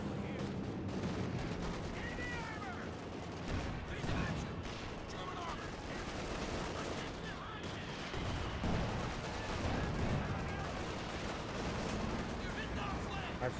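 White phosphorus smoke artillery fires in the Company of Heroes 2 strategy game, heard as a run of booming shots and rumbling battle noise. Muffled voices run underneath throughout.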